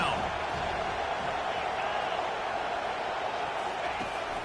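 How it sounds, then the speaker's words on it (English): Dense, steady roar of a football stadium crowd during an NFL game on third down, loud and continuous, a broad wash of voices swelling throughout without pause. "Decibels rising as the crowd gets behind this defense on third down."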